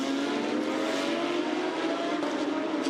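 Porsche Carrera Cup race cars lapping the Sepang circuit, weaving to build tyre temperature, a continuous loud engine roar with a steady high whine and gentle swells, heard alone without talk.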